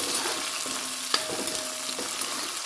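Ginger hits the pan for a beef curry, giving a soft, steady sizzle broken by a few sharp clinks and scrapes of stirring, with no talking.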